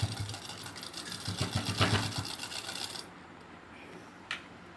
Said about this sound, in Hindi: मशीन से सिलाई लगाएंगे इस पे।